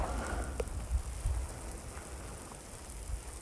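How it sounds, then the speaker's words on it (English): Rain falling on a road trip: a steady, dense patter of drops across the whole stretch, with a few louder taps and a low rumble underneath. "look at all that rain"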